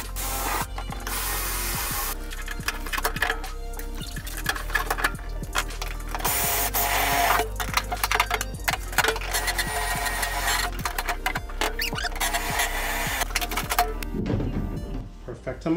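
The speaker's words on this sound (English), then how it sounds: "So I have to go within this area with four rivets." Rivets are set into an aluminum jon boat rod locker, giving repeated sharp mechanical clacks and ratcheting bursts from a rivet tool, close and loud, with a person talking at times.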